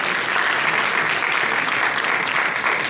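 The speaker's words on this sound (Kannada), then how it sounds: "ಅವರಿಗೆ ಒಂದು ದೊಡ್ಡ ಚಪ್ಪಾಳೆ" Audience at a temple community event gives a big round of applause, a dense, loud, continuous wash of clapping from many hands, sustained evenly from start to finish.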